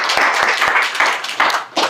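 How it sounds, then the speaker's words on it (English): Audience applause at a launch event for a disability apprenticeship program, with dense clapping throughout and a few sharper individual claps standing out, no voices over it. "let's clap for that"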